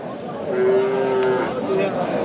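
At a livestock market selling thin, bony crossbred cattle, one cow gives a loud, drawn-out moo close by. A busy background murmur of the market carries on underneath.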